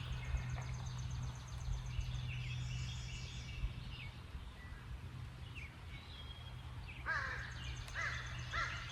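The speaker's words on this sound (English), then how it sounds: "There's the crows." Crows cawing outdoors, several harsh calls scattered through, clustering near the end, over a faint steady background hum.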